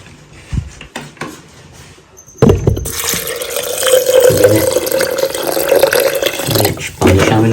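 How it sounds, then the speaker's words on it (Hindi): Water pours into a glass for a mint margarita drink, a few faint clinks at first, then a sudden loud, continuous gushing fill that runs steadily to the end. "उसके बाद जो है आप इसमें पानी शामिल कर लें।"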